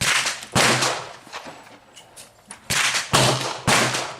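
Five sharp, loud gunshots from a .38 Special revolver firing light loads of 2.2 grains of Alliant Unique, fired in an irregular sequence with short gaps and echoing tails.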